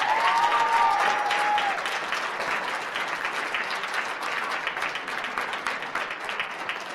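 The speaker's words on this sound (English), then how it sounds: "Let's give them a round of applause." Audience at a FIRST Lego League robotics event breaking into a full round of applause, dense and steady clapping across a large room, strongest at the start, with a brief tone at the outset.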